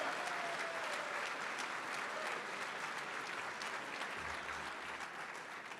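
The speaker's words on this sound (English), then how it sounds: "And if we can give Master Guns a round of applause." Sustained applause from an awards dinner audience, a dense steady wash of clapping at full volume throughout.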